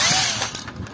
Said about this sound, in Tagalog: Bali tanggalin ko lang yung screw dito sa taas.